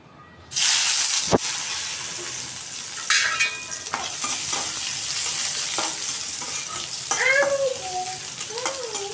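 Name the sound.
dried chili, garlic and onion frying in a wok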